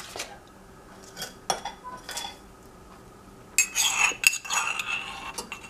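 Yogurt spooned into a glass pot layered with jelly, chestnut paste and Nutella: clinking, scraping spoon-on-glass sounds, sparse at first, then denser and louder clattering toward the end, with no speech.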